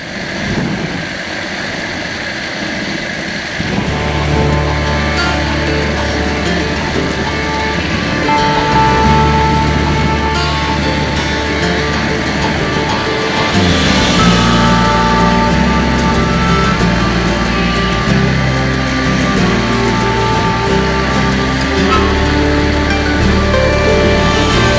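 A small aircraft piston engine runs at a grass airfield, a loud steady drone with harmonic tones that shifts pitch partway through and climbs again around fifteen seconds, with no talking.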